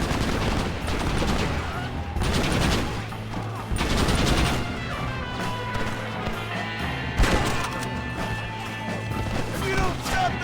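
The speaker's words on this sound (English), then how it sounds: "Right at the machine gun." Gunfire in the Red Dead Redemption video game: bursts of rapid shots and crashing impacts overlap a steady mechanical drone, with busy game effects and voices mixed in.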